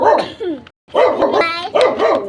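A dog barks close and loud in a few sharp bursts, with a short pause between groups and a faint whiny yelp in the middle.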